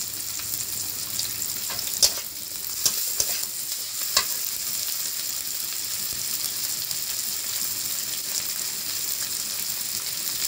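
Ginger paste fries in a pan over cumin seeds tempered in oil, with a constant hiss and sizzle and a few sharp clinks of a utensil against the pan, close by and without talk.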